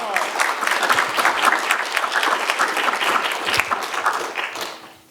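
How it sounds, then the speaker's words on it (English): An audience at a lecture on transformative development applauds, a dense, steady wash of many hands clapping that holds for several seconds before fading out at the end. "A round of applause."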